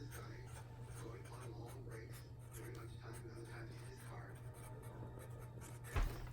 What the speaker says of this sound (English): And then I would just write